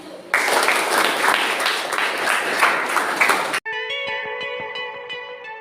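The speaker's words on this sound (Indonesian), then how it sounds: "Tepuk tangan dulu." A classroom bursts into loud, sustained clapping for about three seconds, then it cuts abruptly to a bright, ringing electronic jingle.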